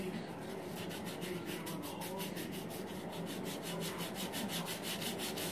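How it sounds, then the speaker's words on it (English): Sandpaper rubs along the edge of a small balsa wood piece to bevel it for a miniature dresser, making soft, rhythmic back-and-forth scratching strokes at close range. "you want to bevel that edge with a piece of sandpaper"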